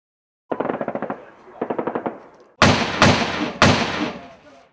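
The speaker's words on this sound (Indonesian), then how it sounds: "Gila, Andy, balas tembakan mereka. Aku sembunyi di mobil. Tembakannya terlalu membabi buta." Two quick rattling bursts of automatic gunfire, then three heavy booming shots, loud and close, like game combat with no speech.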